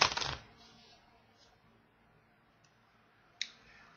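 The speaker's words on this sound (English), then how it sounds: "Shuffle this deck up." A small deck of Dungeons & Dragons cards is shuffled close by, opening with a burst of riffling that gives way to faint scattered clicks and one sharp tap near the end, with no talk.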